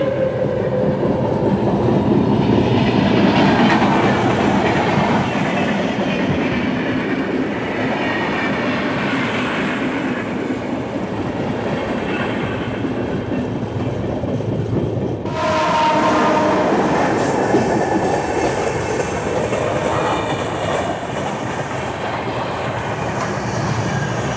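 The Visakhapatnam–Mumbai LTT Superfast Express, train 22847, roars along the track in a long, loud, unbroken rumble with a rhythmic rattling texture and a sudden brighter surge of noise midway.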